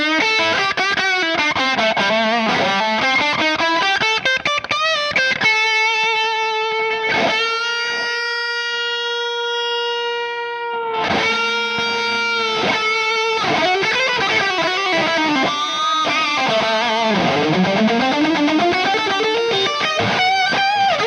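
Electric guitar through a Michelangelo Dophix overdrive pedal cranked to heavy, filthy distortion: sliding riffs, held chords and sweeping bends, loud, close and continuous without talking.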